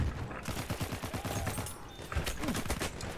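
Battlefield 1 video game gunfire: rapid, loud bursts of repeated shots crackle in quick irregular volleys, close and dense throughout.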